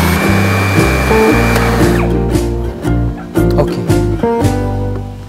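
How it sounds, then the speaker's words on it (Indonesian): A loud, steady motorized whir of a blender running, blending ingredients for Johor lontong, holds throughout. It dips and surges briefly a few times, with dull knocks mixed in. "So kita blend sahaja."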